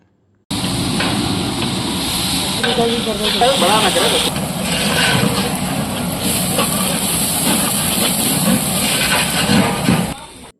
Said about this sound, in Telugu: లైట్ గోల్డెన్ బ్రౌన్ అయిన ఆనియన్స్లోకి జింజర్ గార్లిక్ పేస్ట్ ఈవెన్గా స్ప్రెడ్ చేసేసి బాగా దాన్ని పచ్చిదనం పోయే వరకు బాగా మనము ఫ్రై చేసుకోవాలి